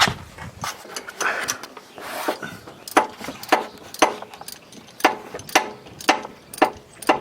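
A wrench working a 10mm bolt loose from under the frame of a 1999 Subaru Forester with an EJ25 boxer engine: rapid, evenly spaced ratcheting clicks, close and fairly loud, after some rubbing and shuffling of the tool.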